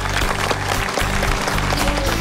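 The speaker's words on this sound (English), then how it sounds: "a huge round of applause to everybody" An audience breaks into sustained applause for the Roadkill Cook-Off team in West Virginia, dense clapping filling the whole stretch, loud and close with no pauses.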